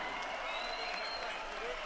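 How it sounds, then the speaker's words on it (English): A boxing crowd applauds after a twelve-round fight, steady dense clapping and crowd noise mixed with an announcer's voice over the arena sound. "how about a round of applause for these two warriors?"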